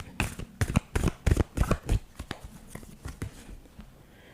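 Cards being shuffled close by in quick, crisp riffling bursts, several in a row, trailing off into lighter flicks.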